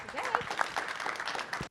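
An audience at a Python talk claps briefly for a speaker, with scattered applause under a voice speaking over it.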